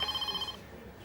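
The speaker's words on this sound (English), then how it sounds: "Phone's been ringing off the hook all morning." Office telephone at a health centre reception ringing, a short electronic trill of repeated pulses that fades out after half a second, fairly faint.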